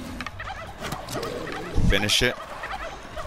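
Turkeys let out a short, loud burst of gobbling partway through, close by, while people talk over and around it.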